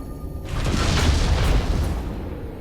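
A bomb blasts in the game Dragon Age Inquisition, a loud, deep boom that swells after a short quiet start and rumbles on for a couple of seconds without talk.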